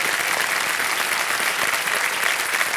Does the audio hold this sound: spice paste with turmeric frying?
no